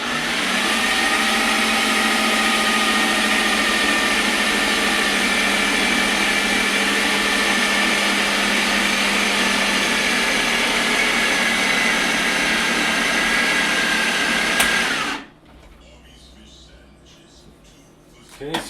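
An electric mixer whirs steadily and loudly through keto chocolate cake batter with sweetener, a continuous high motor drone that stops abruptly, leaving a quiet room with faint shuffling.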